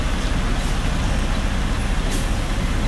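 A truck passes on a roadway at night: dense, steady road roar from a moving vehicle, with a brief air-brake hiss near the end.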